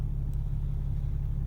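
The 2016 Ram 2500's Cummins diesel engine gives a low, steady rumble heard close, its deep idle the only sound.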